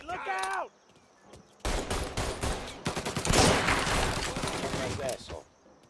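Gunfire in the video game Mafia Definitive Edition, with rapid bursts of loud, dense shots across the middle of the clip and brief voices at the start and end.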